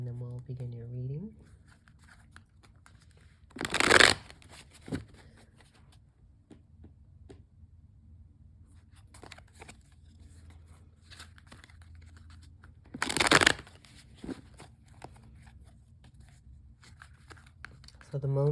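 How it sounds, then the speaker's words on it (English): Two short bursts of tarot cards being shuffled, crisp riffling rustles separated by quiet stretches with soft handling noises. "I will shuffle the first deck just a few more times"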